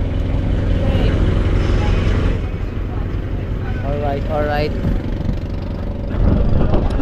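A large Filipino fishing bangka's engine starts and runs with a steady low drone, while people talk over it throughout.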